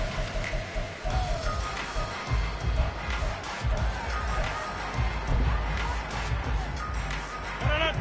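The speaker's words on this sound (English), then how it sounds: "The rain set to continue as we are underway in the second half." Steady rain falls on an open-air stadium during a Giants at Dolphins football game, a dense continuous hiss under a broad crowd murmur and a commentator's voice throughout.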